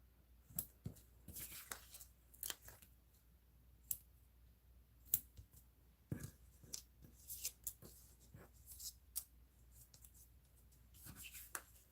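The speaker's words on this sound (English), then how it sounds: "whatever hangs off of this embossed piece I'm going to trim with my scissors" Scissors trim the overhanging edge of an embossed paper piece in a craft studio, a string of crisp, close snips and clicks at an irregular pace with no talking.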